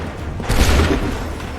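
A volley of musket fire on command in Assassin's Creed III, a single loud booming discharge midway through a short stretch of ambient noise.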